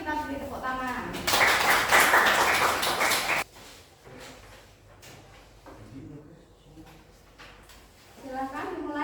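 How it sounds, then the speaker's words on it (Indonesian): A classroom of students in a vocational school chemistry lesson bursts into applause for about two seconds, loud and close, with talking before and after. "kita beri tepuk tangan"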